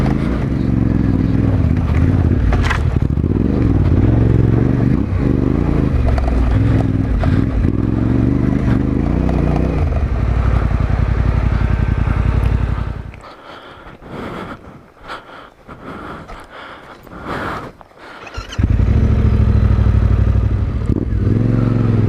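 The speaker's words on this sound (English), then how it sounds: "Just keep a moderate throttle on, and dude, this bike is just chugging through all of this stuff." A 2020 Yamaha Tenere 700 adventure motorcycle chugging along an off-road trail in third gear at moderate throttle. The engine drones loud and steady, eases back briefly with rougher, choppier running, then returns to full strength.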